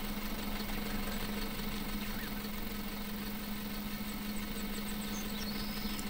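Tractor engine idling in the farming game Farm Manager 2018, a steady low mechanical hum with a constant drone that holds evenly throughout, with no talk over it.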